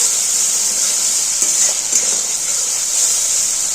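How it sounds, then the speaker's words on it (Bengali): Spice paste (masala) with boiled garlic, onion, green chilli and pepper frying in a pan for a Bengali eggplant and bitter gourd dish: a steady, even hiss of sizzling oil throughout, with faint clinks of stirring and no talk. "তো মশলাটা ভাজা হচ্ছে"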